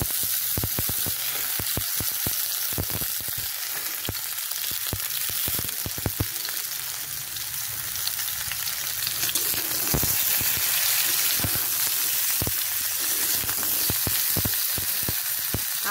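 Broad beans and drumstick pieces sizzle in hot oil in a pan, a continuous close crackle punctuated by sharp pops and occasional stirring clatter, no talking.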